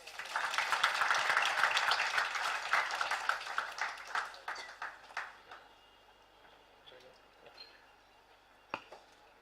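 Audience applause at an Indian book launch event, starting as a full burst of clapping that thins into scattered, fading individual claps, with a final isolated clap near the end.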